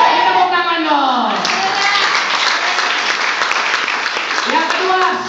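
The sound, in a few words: congregation clapping hands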